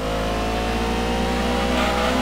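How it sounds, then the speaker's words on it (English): NASCAR-style race car engine droning loudly in Gran Turismo 2 on PlayStation, a steady, dense mechanical roar held at high revs throughout, with no voices over it. "But this thing even sounds like a NASCAR."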